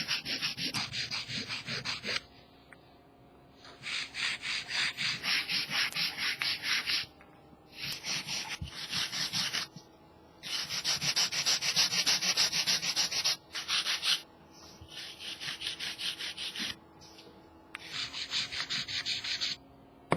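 Acrylic nails being filed with a hand nail file, rough scratchy strokes in long sustained bursts separated by short pauses, close and fairly loud with no talking.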